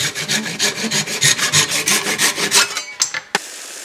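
A hand saw cuts through a wood blank for a Celtic knot rolling pin in quick, loud rhythmic rasping strokes close by, ending in a few slower strokes and a final knock.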